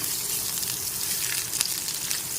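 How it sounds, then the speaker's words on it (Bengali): Long strips of eggplant frying in hot oil tempered with nigella seeds, a steady, close, bright sizzle with no break and no voices. "হালকা করে ভেজে নিতে হবে বেগুনগুলো"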